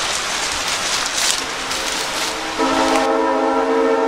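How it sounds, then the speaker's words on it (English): A passing train rumbles with a steady noisy roar, then a loud, sustained horn sounds close by and continues to the end. "You can probably hear that train."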